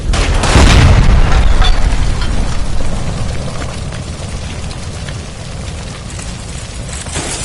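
A gas line explodes in a kitchen in L.A. Noire, a loud, deep boom that swells into a long roaring rumble of fire and debris, fading slowly over several seconds.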